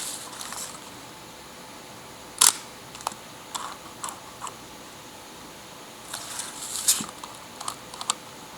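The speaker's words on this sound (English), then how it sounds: "You can hear how smoother the real Leica is when it comes to the shutter speed." Sharp mechanical shutter clicks of a Leica IIIa camera firing at 1/60 second, a handful spaced irregularly apart, crisp and close against a quiet background hiss.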